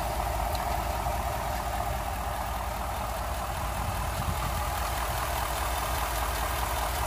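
A Ford F-150 fitted with a Spectre 9976 cold air intake idles steadily nearby, a constant low engine drone with an airy intake hiss and no speech over it.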